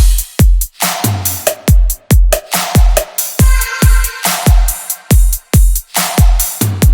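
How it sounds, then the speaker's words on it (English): An electronic drum beat pounds with a deep kick, snappy hats, crash and ride cymbals and a chopped vocal sample, loud and tightly rhythmic in a steady repeating pattern, with no speech. "The drum beat with the final bit all together sounds like this."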